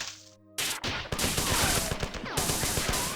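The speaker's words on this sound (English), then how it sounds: "this would be nightmarish without the assault rifle" Rapid bursts of assault rifle fire in a PC video game rattle loudly and close, with dense repeated shots and sound effects over most of the stretch and a short quiet gap near the start.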